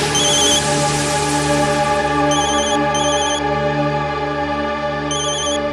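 A phone rings with a loud, steady melodic ringtone, its high chiming tones repeating over and over with no voices.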